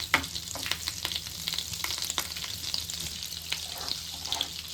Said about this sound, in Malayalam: നല്ലപോലെ മെൽട്ടാവുന്നുണ്ട് മക്കൻ